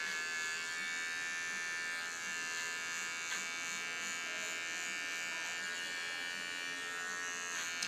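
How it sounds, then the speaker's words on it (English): An electric hair clipper cutting hair during an undercut makes a steady, close buzzing hum with a strong tonal whine. The pitch wavers slightly as it moves through the hair, and it runs alone without talk. "And with my clipper I make a blonde line in it."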